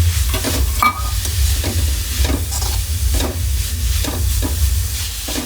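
Capsicum and carrot for a momos filling fry in a pan with a continuous loud sizzle, punctuated by a regular scraping rhythm of stirring and no voices.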